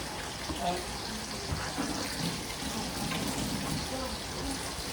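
A kitchen tap runs steadily while hands are washed, a constant close water hiss with people talking over it.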